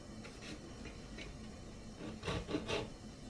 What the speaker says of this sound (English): Okay, so that's the way we're going to cut this.